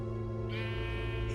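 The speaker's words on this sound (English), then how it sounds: "A sheep?" A sheep from the Minecraft: Story Mode game gives a short bleat over a steady droning game soundtrack, fairly quiet and brief.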